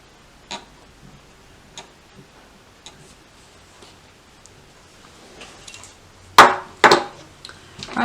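Snap fasteners pressed into a handmade card holder with a setting tool, giving a few soft isolated clicks followed by two sharp, close pressing snaps near the end, with no talking.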